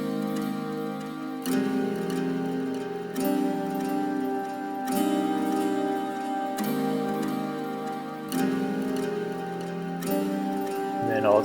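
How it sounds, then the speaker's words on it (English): Rhythm guitar playing only the chords, strummed in sustained chord blocks that change every couple of seconds at a steady, even loudness, with no voice. "there's another guitar here, which is just the chords by itself, and it sounds like this."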